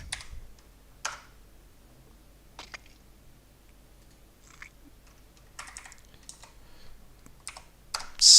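Someone types on a computer keyboard with scattered, crisp key clicks in short uneven clusters against a quiet background, with a louder burst of keystrokes near the end.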